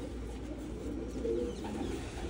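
Breeding pigeons coo softly at close range, a low throaty murmur with a brief rising phrase midway, against a quiet background.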